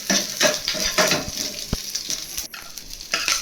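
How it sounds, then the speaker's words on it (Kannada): Half an onion fries in hot oil with spluttered mustard seeds and curry leaves, giving a steady close sizzle broken by scraping spoon strokes and light clinks against the pan. "ನಂತರ ಒಂದು ಅರ್ಧ ಈರುಳ್ಳಿ ಹಾಕ್ಕೊಂಡಿದ್ದೀನಿ, ಅದು ಕೂಡ ಚೆನ್ನಾಗಿ ಎಣ್ಣೆಲಿ ಫ್ರೈ ಮಾಡ್ಕೊಬೇಕು."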